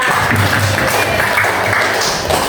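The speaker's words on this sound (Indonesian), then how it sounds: "Tepuk tangan untuk kita semua." Classroom applause from a group of students, loud continuous clapping filling the room for a couple of seconds.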